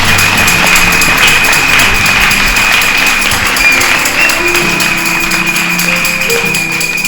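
Church congregation applauding and cheering continuously, a dense steady wash of clapping with crowd noise throughout, loud and close.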